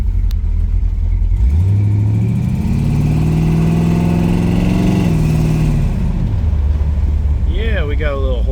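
A 1981 Corvette engine with a small exhaust leak revs up from a deep idle, holds a steady roar, then settles back to a rumbling idle. It is close and loud, and a voice speaks briefly near the end.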